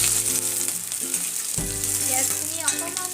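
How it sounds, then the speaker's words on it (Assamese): Chopped onions sizzle in hot oil in a pan, a steady crackling fry broken by stirring and a sharper burst partway through as more hits the oil, close and alone. "এয়া মোৰ তেল গৰম হৈ গৈছে। এতিয়া মই ইয়াতে কাটি লোৱা পিঁয়াজখিনি দি"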